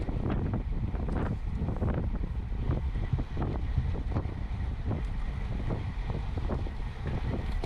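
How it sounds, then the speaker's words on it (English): Steady wind roars across the microphone during a two-hour amateur bike race at Langford, a continuous loud buffeting rush with gusty low rumbles and no talk. "we've got a left to right wind"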